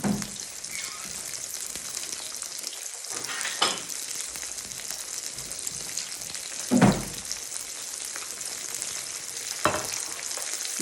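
Breaded escalope frying in oil in a pan, a steady bright sizzle running throughout, broken by a few louder crackling pops and splashes.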